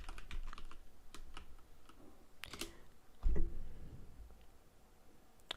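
Sparse keystrokes on a computer keyboard while entering a search in Windows, scattered clicks spread across the stretch with one heavier thump midway, fairly quiet and with no talking.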